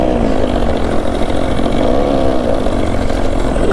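An Ola S1 Pro electric scooter in vintage mode plays a simulated old-style engine sound, a steady buzzing drone that stays loud and close throughout.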